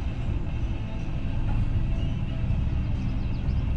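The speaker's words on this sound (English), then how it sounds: "Can't believe how long this train is." A long train rolls past nearby with a continuous loud rumble and clatter that stays steady throughout, with no talk over it.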